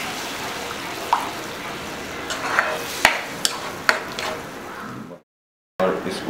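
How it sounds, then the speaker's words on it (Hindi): A utensil scrapes and clinks against a pan while stirring yogurt, a few sharp knocks over a steady low hiss, then a brief silence before the stirring resumes. "और दही को भी मिक्स कर लेते हैं।"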